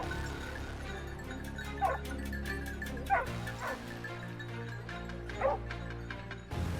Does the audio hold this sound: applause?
no